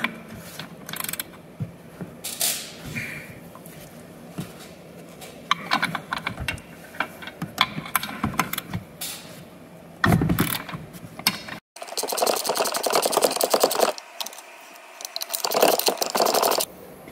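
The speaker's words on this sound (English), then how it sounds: "you need to back it with the wrench right there" A ratcheting wrench backing off the upper stem nut on a Jeep JK front axle during a Metalcloak 3.5-inch suspension install, with rapid close metallic clicking in repeated bursts, pauses and clanks of tools between them.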